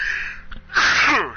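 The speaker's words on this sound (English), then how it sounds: "Oh, that was a good sneeze." A person's sneeze during a gaming session, a short sharp intake then a loud, close burst lasting about half a second, alone without talk.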